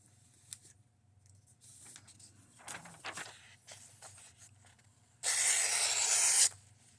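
Ozark Trail Stormpooper knife blade slicing copy paper, a few quiet rustles and scrapes followed by one loud, sustained hissing cut near the end.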